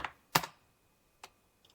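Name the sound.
typing on computer keyboard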